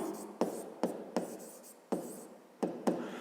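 A pen writes out a maths solution on paper in short close scratchy strokes with sharp onsets, about six bursts separated by brief pauses, quiet and alone.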